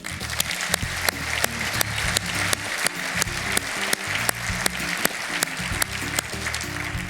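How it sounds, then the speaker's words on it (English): Clapping from attendees at an electrical distributors' regional conference, a steady patter of applause running throughout with sharper individual claps standing out over a background of music or murmur. "Please join me in giving these folks an applause."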